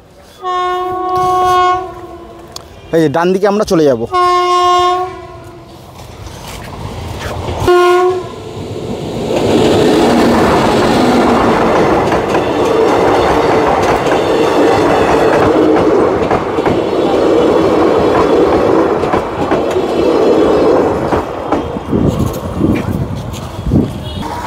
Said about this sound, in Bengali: এই যে ট্রেন আসছে তার জন্য কিন্তু গেট পড়েছে।